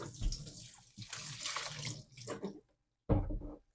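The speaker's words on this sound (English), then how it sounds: "Little rinse through the tap." Water rinses through the tap of a Pinter 3 home brewing keg, a close, gushing and splashing flow that stops briefly and then resumes for a short burst, with no talking.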